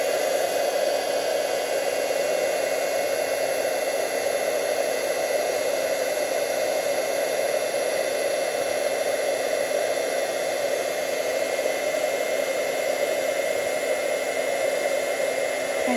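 A heat tool blows steadily over a craft card for a rainbow explosion mini envelope project, a constant airy whir held at even loudness throughout with no talking.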